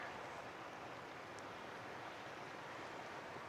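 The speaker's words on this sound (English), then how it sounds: "You have this nice little mellow stream here, and then you can hear the roaring river in the distance." A gentle stream murmurs nearby on a spring nature hike, with a roaring river adding a steady, broad rush from farther off; the water noise is continuous and even throughout, with no talking.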